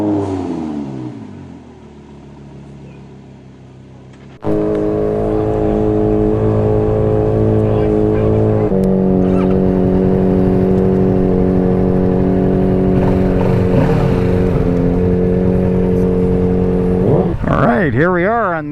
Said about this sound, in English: Here we are on the Kawasaki demo ride. I'm on a Ninja 650.